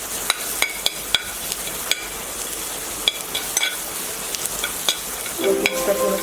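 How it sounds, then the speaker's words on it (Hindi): Onions frying lightly in a pan, a steady close sizzle and crackle with occasional sharp ticks of a spatula against the pan, swelling into a slightly louder stir near the end. "इसे हल्के से फ्राई करके"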